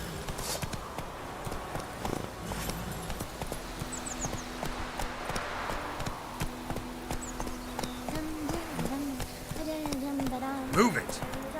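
Hooves of Roach, the horse in the video game The Witcher 3, clop in a quick steady trotting rhythm at close range, joined by a short snort or whinny near the end.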